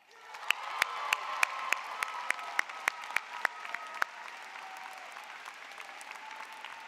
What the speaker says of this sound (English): Please join me in a round of applause for Professor Acevedo